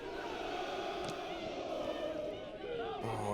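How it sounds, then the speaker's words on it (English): Spectators at a schools cup rugby quarter-final, Sherborne School against KCS Wimbledon, cheer and shout steadily throughout, a dense, continuous crowd roar with voices swelling near the end. "you can hear the crowd in the background urging Sherborne on"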